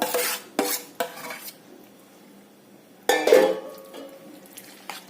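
A mixture of roasted eggplant for bharit is mixed and mashed in a pot, giving short bursts of metal scraping and clinking against the vessel, separated by quieter pauses.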